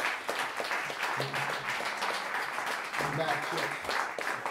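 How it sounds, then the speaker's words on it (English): A crowd applauds at a live benefit show at Caffe Lena, a fairly steady wash of clapping with someone speaking over it. "Big round of applause for Paul."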